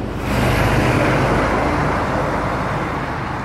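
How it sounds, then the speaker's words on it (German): A truck passes by on a road near a bus stop, a loud broadband roar that swells quickly and holds, then eases slightly as it moves away. "Na, scheiß LKW"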